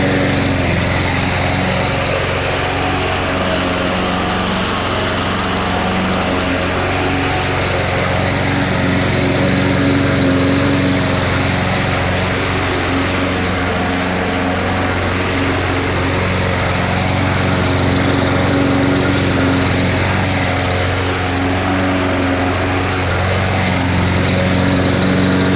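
A lawn mower engine runs steadily and loudly throughout while mowing a garden lawn, a continuous close drone with a slight rising and falling pitch as the load varies.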